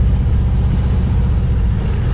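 A Harley-Davidson Road Glide 2024 motorcycle engine rumbling loud and close through its pipes, a steady, deep, throaty drone with no break.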